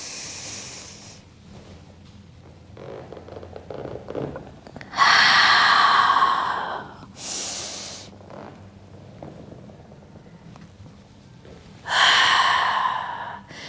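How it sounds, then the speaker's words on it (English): Slow, deep breaths in and out, with three loud airy inhalations spaced several seconds apart and quieter breathing between them, close and without talk. "Deep breath in."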